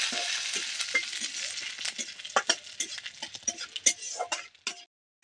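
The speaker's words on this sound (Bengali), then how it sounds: "তাই এর মধ্যে সর্ষে, জিরে আর কারি পাতাটা দিয়ে দেবো। দিয়ে একটু ভেজে ভেজে নেব।" Mustard seeds, cumin and curry leaves fry in hot mustard oil for idli, giving a steady close sizzle broken by popping crackles and the scrape of stirring in the pan.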